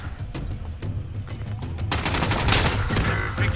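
Rapid gunfire bursts in a battle royale video game firefight, starting as scattered shots and swelling into a dense, loud volley in the second half, with no talk over it.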